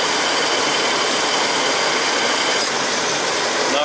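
Car engine idling under the hood during an A/C refrigerant top-off, a steady dense hiss-like roar with fan noise, close and constant.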